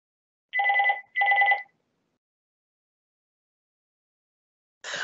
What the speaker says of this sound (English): can you hear that? That's my phone.